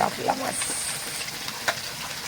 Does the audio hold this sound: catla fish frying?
yes